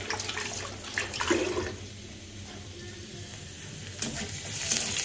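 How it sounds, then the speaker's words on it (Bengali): Onions frying in a pan in a home kitchen, a steady soft sizzle running throughout with a few brief bursts of crackle and louder spells near the start and end, no talking. "এখানে দেখেন পেঁয়াজ ভাজি করতেছি"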